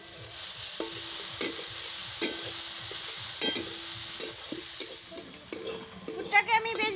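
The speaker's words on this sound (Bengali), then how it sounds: "এখন আমি দিয়ে দিচ্ছি ভিজিয়ে রাখা মুসুরির ডাল। এই ডালগুলোকে আমি সারা রাত ভিজিয়ে রেখেছিলাম। এখন আমি এগুলোকেও ভেজে নেব।" Soaked red lentils frying with salt in a pan, a steady close sizzle broken by sharp scraping stirs, with a person talking over it.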